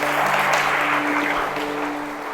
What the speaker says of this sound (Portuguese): Vamos dar uma salva de palmas para Jesus então.